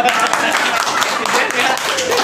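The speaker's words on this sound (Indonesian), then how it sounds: "Boleh tepuk tangan dong." Applause from an audience at a Ramadan iftar gathering of KMCI attended by its president: dense, steady clapping filling the whole stretch, with voices mixed in underneath.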